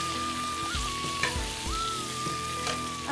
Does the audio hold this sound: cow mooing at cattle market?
no